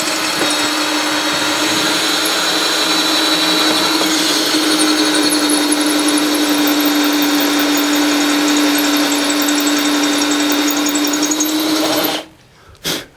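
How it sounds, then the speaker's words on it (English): Power drill boring at an angle into a cast iron skillet, a loud continuous whining grind held steady for about twelve seconds before cutting off abruptly. "I've drilled straight down, and now I'm kind of going in at an angle like this"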